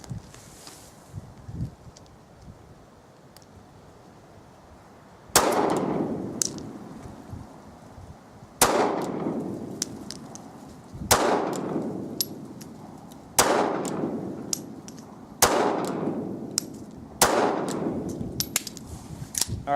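Six sharp shots from a first-generation Ruger LCP .380 pistol, each followed by a metallic clang off a steel target, fired at a steady pace with brief ringing decay between them after a few seconds of quiet.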